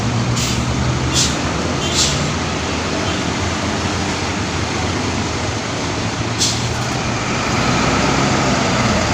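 An Eka intercity bus on the Surabaya–Solo–Purwokerto route passes on an arterial road, a loud, close diesel rumble with a steady traffic roar and a few short hissing bursts of air brakes.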